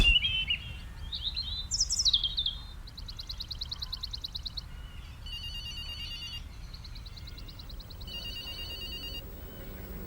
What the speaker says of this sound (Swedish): vi kollar på lite fåglar här